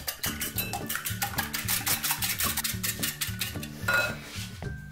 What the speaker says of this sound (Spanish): En un bol amplio cascamos los 3 huevos, una pizca de sal y batimos.